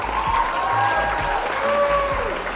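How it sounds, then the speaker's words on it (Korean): Steady applause from an indoor lecture audience greeting a psychotherapy center director as he is welcomed to the stage, a continuous dense clapping that fills the whole moment at an even level. "여러분 박수로 심상치료보건센터 대표 최범식 박사님을 맞이해 주시기 바랍니다"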